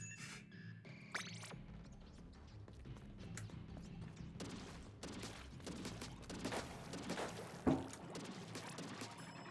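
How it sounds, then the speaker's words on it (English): Fireworks pop in scattered, irregular bursts, faint and distant, with one sharper crack standing out among the rapid crackles. "I think they're starting to pop fireworks now."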